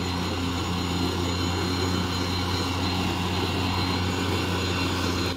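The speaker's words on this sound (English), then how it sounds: "Now let's test out the self-propelled system." An EGO Power+ Select Cut Touch Drive cordless electric mower runs its self-propelled drive motor, giving a steady, even hum that holds at a constant level throughout with no talking.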